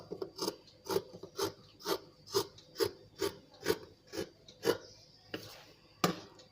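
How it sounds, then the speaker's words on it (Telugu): Scissors snip through blouse cloth along a marked outline, about a dozen crisp, evenly spaced cuts in a steady rhythm, close and fairly quiet, with no talking. "ఇప్పుడు చుట్టూరు కూడా కట్ చేసుకోవాలి."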